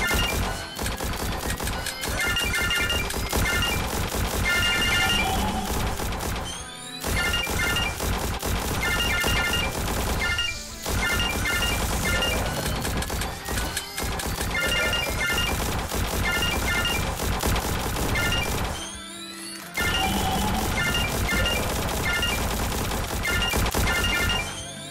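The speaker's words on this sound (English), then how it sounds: "And also getting those bombs to explode, those barrels, explosives." Sustained gunfire and explosions from destructible explosive barrels in the on-rails VR shooter Peace Maker, dense rapid shots and crashes running loud and nearly continuous with brief pauses, no talking.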